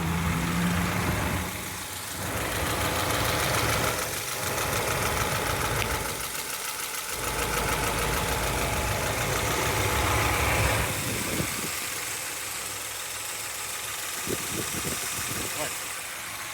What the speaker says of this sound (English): So let's first listen to the engine.